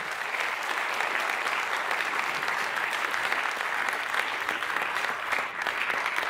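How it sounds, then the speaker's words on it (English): Banquet audience giving a big round of applause at an awards night, a sustained, even roar of many hands clapping that carries on without a break. "Give Alan Fee a great big round of applause."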